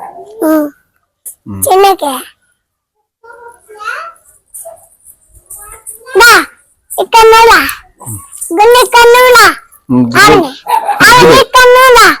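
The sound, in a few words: dog barking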